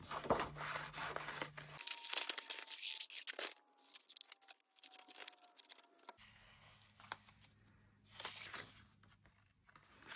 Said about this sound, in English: This is actually printed onto quite strong card. So if I just cut it out.